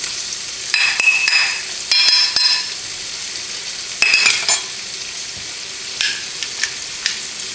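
Onions and rosemary sauté in a hot pan, a steady close sizzle broken by several bright clinks and scrapes of a utensil stirring against the pan.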